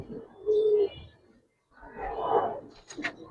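Pigeons in a loft cooing softly, with two bursts of low murmuring calls separated by a short pause and a brief flutter near the end.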